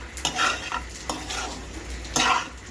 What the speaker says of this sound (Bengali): আর এই যে এই পাশে এখানে করলা ভাজি করছি